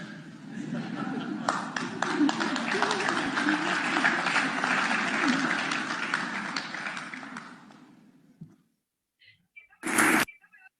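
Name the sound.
audience applause in a played video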